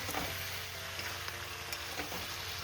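Potato and capsicum curry sizzling in a pan with garlic, onion and green chilli, a soft steady frying hiss with occasional faint stirring clicks, fairly quiet and without talk.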